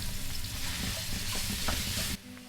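Ground pork frying in a pan while being stirred, a steady dense sizzle with scraping stir strokes, continuous and close, then dropping off abruptly near the end.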